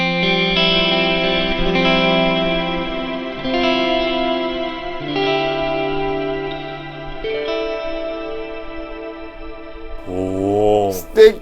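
Electric guitar played through a compact spatial effects pedal with six selectable modes, sustained chords washed in chorus-like shimmer and reverb, loud and continuous, ending in a bent swelling note.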